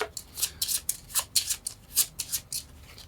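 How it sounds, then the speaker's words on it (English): A small stack of only three Pandemic board game cards is shuffled by hand, a quick series of crisp, close papery riffles and slides in an uneven rhythm, with no talking. "And we only have 3 cards to shuffle"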